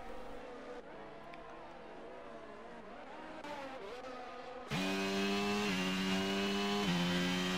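Several F1 race cars in a video game roar past one another while battling for position, with high-pitched engine whines rising and falling in pitch. A louder car's engine takes over partway through, close and sustained.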